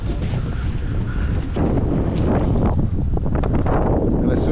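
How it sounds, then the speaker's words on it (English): Wind buffets the microphone aboard a fishing boat out on the water, a loud, constant low roar and rumble that swells and gusts steadily throughout, with faint splashes and the boat's noises underneath. "And as soon as I did, the wind picked up."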